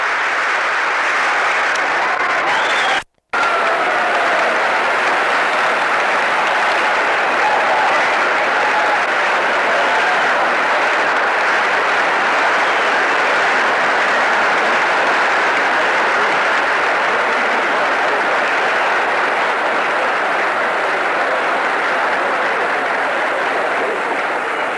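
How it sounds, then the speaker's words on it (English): Members of both houses of Congress stand and applaud as the President leaves the chamber, a long sustained roar of clapping from a large crowd on an old broadcast recording, steady and unbroken except for a brief dropout. "the assembled members of the two houses of Congress remain standing, applauding as he leaves"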